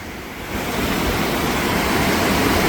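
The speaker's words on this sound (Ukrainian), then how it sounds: "Капець вода тече. Аж страшно." River water rushes loudly under a bridge in a steady, dense roar that swells slightly after the first half second and continues without a break.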